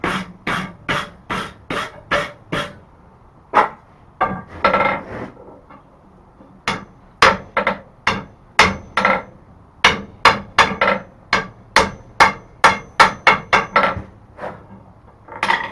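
A hammer forges the taper on a steel tomahawk mandrel with loud, ringing blows in quick rhythmic bursts, broken by short pauses and a few softer scraping sounds, close and alone.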